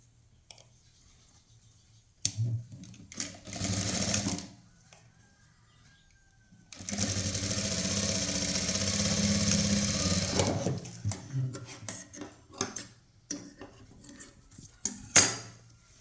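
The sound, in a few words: sewing machine stitching a blouse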